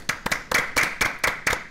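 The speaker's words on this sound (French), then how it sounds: "je pense qu'on peut applaudir Flavie" Applause for a show host at the end of a talk program, a handful of sharp claps in a steady rhythm, close and fairly loud, from what sounds like only one or a few people.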